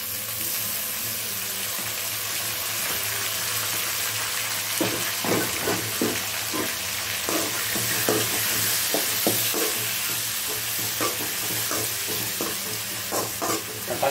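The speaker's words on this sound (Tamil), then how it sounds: "தக்காளி நல்லா வதங்கி வரட்டும்." Tomatoes sauté in a pan for tomato rice: a steady sizzle starts alone, then a run of quick, irregular scraping and tapping stirs joins it in the second half, close and fairly loud, with no voices.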